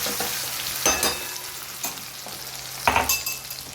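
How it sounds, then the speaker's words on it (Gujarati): Ginger, green chili and garlic hit hot oil in a pan for a tempering, giving a close, steady sizzle with sharp spatter bursts and occasional scraping stirs, and no voices. "એમના માટે પાછા અલગ થોડા કોરા વઘારું"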